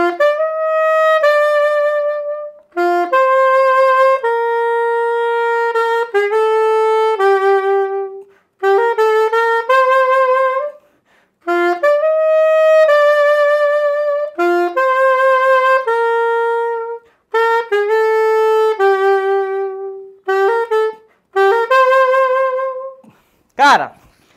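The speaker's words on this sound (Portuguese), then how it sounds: "Cara, muito gostoso tocar esse saxofonezinho." A Roden curved soprano saxophone plays a melody in phrases of sustained, bright reedy notes with short breaks between them, loud and close, with no talking.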